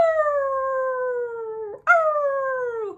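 Two long, sliding dog howls, each tapering downward, sound close and clear with a brief gap between them and no other noise around.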